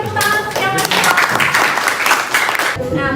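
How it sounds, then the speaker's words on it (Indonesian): A classroom of students applauds together, a short burst of dense, close clapping that cuts off abruptly near the end, with voices mixed in. "beri tepuk tangan untuk yang masih"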